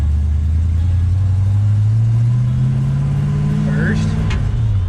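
A V8 Dodge Dart with a four-speed manual on its first drive after repairs: a loud, steady low engine drone that rises in pitch as the car accelerates, dropping briefly near the end as it shifts gear.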